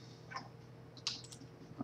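A computer mouse clicks once sharply to open a PDF, with a few softer clicks scattered around it, close and quiet over a low steady hum.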